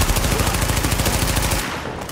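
A gun in the video game The Division fires in a loud, rapid continuous burst of evenly spaced shots. The shots stop abruptly, leaving a short fading tail. No speech.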